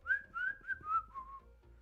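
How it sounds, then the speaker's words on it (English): A person whistles a short bright melody of about five rising and falling notes, close and clear with no talking, performed as part of a live tabletop role-playing game session. "And I start whistling."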